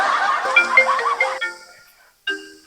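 A phone ringtone in a village comedy sketch, a bright electronic melody of quick notes that breaks off, leaves a short silence, then starts again.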